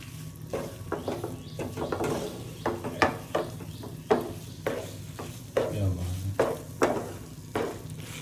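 Paneer being stirred into thickened milk in a pan over low heat for kalakand, with repeated spoon scrapes and soft bubbling at an even pace, close by; a voice briefly murmurs in the background.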